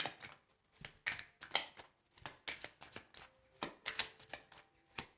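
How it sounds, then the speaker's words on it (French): A deck of tarot cards is shuffled by hand in a quiet room, making a close series of quick papery riffles and slaps in uneven bursts with short gaps between them. "On va battre les cartes et puis mettre 9 cartes."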